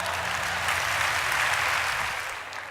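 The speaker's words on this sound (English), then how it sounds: "Give yourself a big round of applause." Audience applause from a seated crowd at an inspirational talk, a dense steady wash of many hands clapping together that swells slightly mid-way and then tapers off, with no voices over it.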